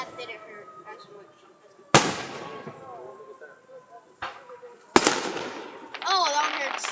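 Fireworks at a crowded show go off in two loud, sharp bangs a few seconds apart, each trailing off into crackle and rumble over a steady background hiss. A whistling rise follows near the end.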